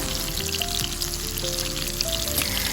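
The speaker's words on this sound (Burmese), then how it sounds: "ဘဲပြားလေးတွေအကျက်ညီသွားအောင်လို့ဟိုဘက်ဒီဘက်လှန်ပြီးတော့ကြော်ပေးပါ" Stuffed tofu frying in a pan of hot oil, giving a dense, continuous crackling sizzle at even loudness throughout, close by and without speech.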